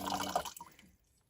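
Cold water pours briefly from a Waterdrop electric water filter dispenser, a short close trickle that stops abruptly and leaves near silence.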